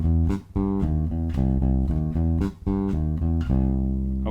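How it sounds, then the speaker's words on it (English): A basic blues rock riff is played on bass guitar, giving deep, loud, repeated note patterns in a steady groove with short breaks between phrases, heard alone without talk. "So here I'm just going to give you a very basic kind of blues rock riff"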